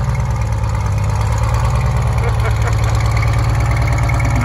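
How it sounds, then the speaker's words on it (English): A diesel truck engine idles close by with a deep, steady rhythmic rumble and regular low pulsing, loud and continuous, with faint voices underneath. "That's how a diesel should sound, not like these new Ford trucks."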